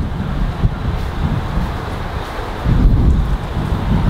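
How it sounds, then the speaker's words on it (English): Steady outdoor wind rumbles and buffets against the microphone, with low gusty noise swelling louder toward the end. "It's a windy day today."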